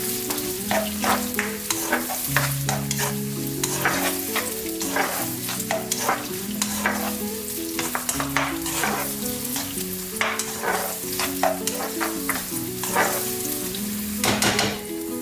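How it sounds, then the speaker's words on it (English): Chopped onions sweat and sizzle steadily in a pan, a constant close frying hiss broken by frequent scraping and clinking strokes of a utensil stirring. "we're going to sweat the onions for a little while"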